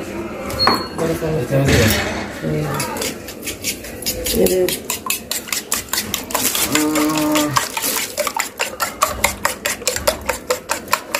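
A mixture is beaten in a bowl with a utensil, making quick rhythmic clinks and taps that speed up toward the end, close by, mixed with people talking.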